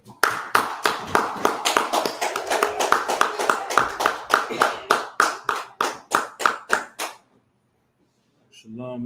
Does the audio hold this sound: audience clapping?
yes